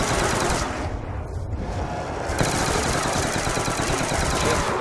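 Sustained rapid automatic gunfire from Call of Duty Black Ops 2 Zombies on the Nuketown map, dense and continuous for several seconds as weapons mow down zombies, loud with no talking.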